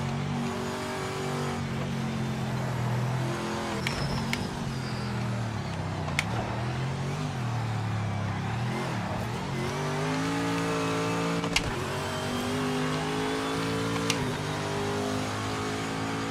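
Race cars in a racing video game rev and drone continuously, engine tones rising and falling with a few sharp clicks, close and steady throughout with no talk.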